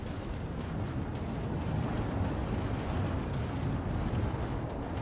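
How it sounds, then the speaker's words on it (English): A spaceship explosion in X4: Foundations, a sustained low roaring rumble of fiery blasts that stays dense and steady throughout, fairly quiet and with no talking. "Explosion imminent."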